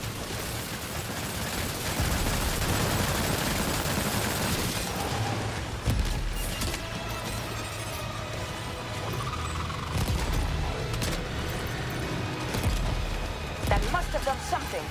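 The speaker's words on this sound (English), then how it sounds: "Opening fire now." Gunfire in Death Stranding 2 rattles in dense, overlapping bursts, with occasional sharper booms over a constant loud wash of battle noise, while voices talk throughout.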